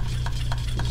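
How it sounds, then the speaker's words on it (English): Smooth Cast 300 casting resin is stirred in a cup, three quick scraping strokes repeating evenly over a low background hum, close and fairly quiet. "So give this a stir."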